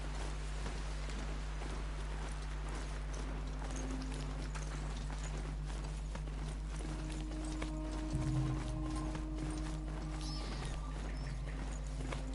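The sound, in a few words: Strider machine horse galloping in video game Horizon Zero Dawn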